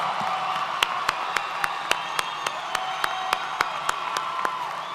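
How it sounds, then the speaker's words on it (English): Graduation ceremony audience applauding after the tassel turn, steady dense clapping from a large crowd with a few sharp claps and faint cheers standing out, sustained throughout. "Big, big applause."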